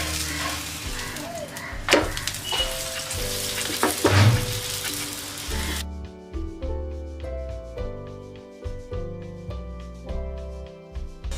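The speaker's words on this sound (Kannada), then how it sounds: "ಈಗ ರೆಡಿ ಮಾಡ್ಕೊಂಡಿರೋ ಪರಾಟ ಹಾಕ್ಕೊಳ್ಳೋಣ. ಇದ್ರ ಮೇಲ್ಗಡೆ ಒಂದು ಸ್ಪೂನಷ್ಟು ಎಣ್ಣೆ ಹಾಕ್ಕೊಳ್ಳಿ." Pizza paratha frying in a spoonful of oil on a hot pan, a steady close sizzle that crackles throughout, with no voices over it.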